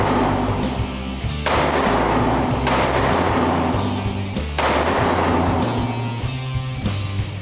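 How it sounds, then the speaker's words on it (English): Handgun shots fired at a laser-aimed target ring out loud and close, about four sharp reports spaced roughly one to two seconds apart, each followed by a lingering echoing tail. "now just focus on the laser and squeeze the trigger"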